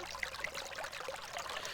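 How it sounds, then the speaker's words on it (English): Icy water runs steadily from a faucet, a continuous broadband hiss and trickle with no pauses or speech. "My hands beneath the icy water running from a faucet."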